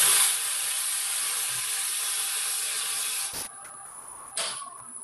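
A thin wood segment is sanded back and forth on coarse and fine sandpaper, making a steady, close, hissing scrape that stops abruptly, followed by a couple of brief rubbing strokes.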